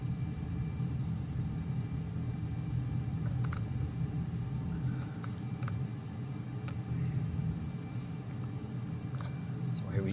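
Steady jet engine roar from an F/A-18C Legacy Hornet in Flight Simulator 2020, a continuous low rumble with faint clicks on top, holding level throughout without a clear rise.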